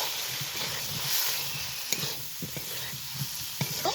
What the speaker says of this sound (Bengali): এইভাবে চুলায় মিডিয়াম আঁচে জাল দিতে হবে, আর এই সবজিটা কষিয়ে নিতে হবে